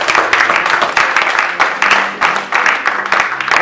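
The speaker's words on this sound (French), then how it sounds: "Applaudissons pour Jésus-Christ" A church congregation applauds in praise during a worship service: a dense, steady wash of many hands clapping, loud and close, lasting several seconds.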